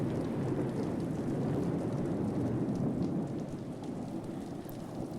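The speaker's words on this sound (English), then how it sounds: "Rain was pouring down from the thundering black clouds that filled the sky." Heavy rain pours steadily during a thunderstorm, a dense hiss of falling water with low rumbling thunder beneath, loud and continuous with no voices.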